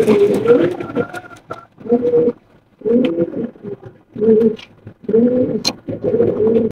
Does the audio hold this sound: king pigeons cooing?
yes